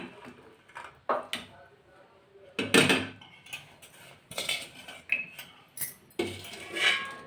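Boiled black-eyed peas go into a pan of oil, tomato, onion and chilli powder, bringing a series of close metallic spoon scrapes and clinks against the pan, with pauses between strokes and occasional talk.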